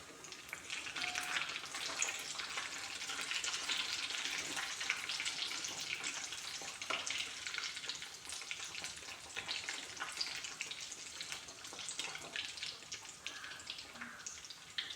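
Chicken rolls frying in hot oil in a heated pan, a steady, dense sizzle that runs close and fairly loud for the whole stretch with no talk over it.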